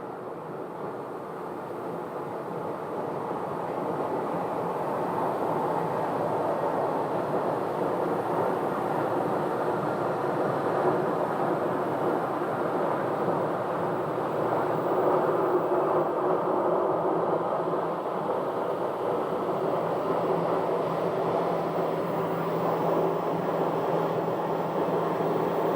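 Frontier Airlines flight 751 from Denver on arrival at Phoenix, a broad steady jet roar that swells gradually and holds at moderate distance with no talk.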